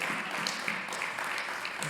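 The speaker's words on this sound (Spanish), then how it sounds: "Aplaudamos la fidelidad de Dios." A church congregation applauding in a dense, continuous wash of many hands clapping at a worship service, with some indistinct voices mixed into the crowd noise.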